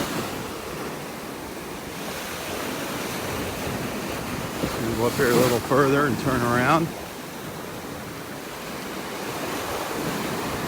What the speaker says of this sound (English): The waves are a little bigger up here.